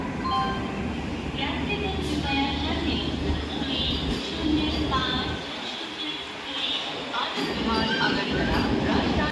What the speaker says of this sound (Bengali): রাজধানী এক্সপ্রেস এক প্ল্যাটফর্মে এসে গেছে